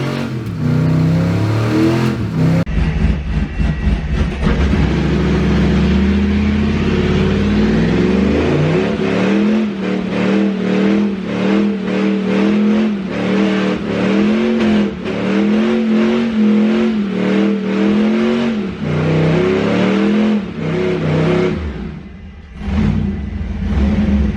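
A loud Duramax diesel pickup truck engine with a faulty transmission revs repeatedly, its pitch rising and falling in rhythmic surges close by.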